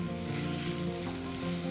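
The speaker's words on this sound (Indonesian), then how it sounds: "Kita tumis sebentar sampai dagingnya berubah warna." Minced meat stir-fries in a pan with a dense, continuous sizzle, close and steady throughout, and a broad hiss of frying fat.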